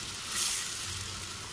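Tomato puree blended with green chillies cooks in a pan for a rohu fish egg curry, a steady close sizzle and bubbling hiss with no talk.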